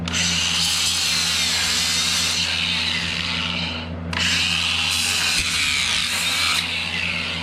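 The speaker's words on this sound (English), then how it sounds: "I just chamfer these 2 corners that the wire is gonna come around" A power tool cuts chamfers into the corners of a wire chase in ICF foam wall forms, giving a steady, loud abrasive whine and rub with a brief dip partway through, with no talking.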